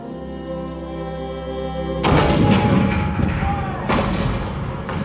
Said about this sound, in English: the cannon spoke for war